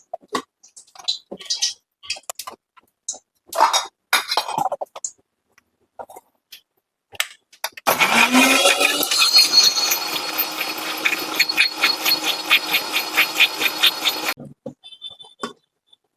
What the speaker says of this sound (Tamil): அரைக்க போறேன் எல்லாத்தையும்